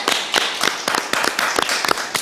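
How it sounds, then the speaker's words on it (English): A virtual awards ceremony audience applauding nominees for a community award, a dense, crackling wash of many hands clapping, close and lively, with sharp individual claps popping through the whole time. "A huge round of applause for everyone nominated for the Community Award."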